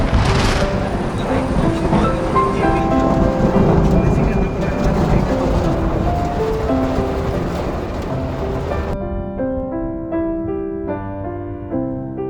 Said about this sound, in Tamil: அடின்னு அடிச்சுது மழை.